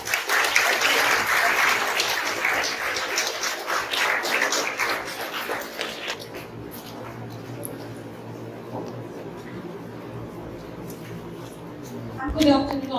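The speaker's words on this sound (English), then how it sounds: "a grand clap for everyone for being in the league of independent creativity" Audience clapping at a school inauguration ceremony for a science, math, language and environment fest, loud and dense at first, then thinning out and fading into room noise after about six seconds, with a brief burst near the end.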